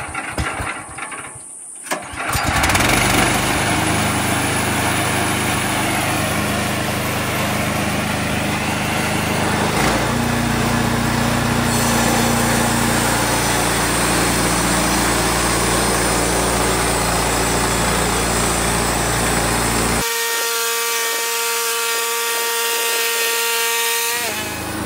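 Bozeman bandsaw mill's small engine pulls into a loud, steady high-pitched drone, runs evenly for most of the stretch, then drops to a lower, quieter idle near the end.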